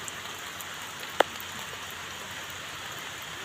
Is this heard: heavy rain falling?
yes